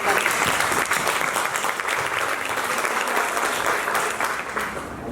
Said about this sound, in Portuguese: Então, palmas para vocês.